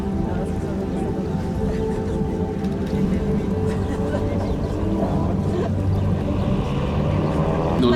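Piper seaplane engine throttled lightly during a water landing at a Biscarrosse air show, a steady droning hum with splashing water wash, continuous and moderately near.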